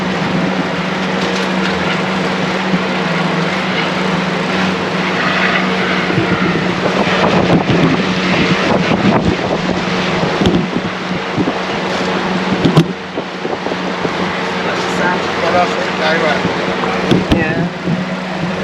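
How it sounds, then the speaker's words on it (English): A steady low engine drone and water rush from boats on a Netherlands waterway as a huge commercial freight ship passes at about 20 knots, loud and continuous with occasional knocks and bumps. "We got a commercial freight coming up, and it's huge. It's coming up about 20 knots"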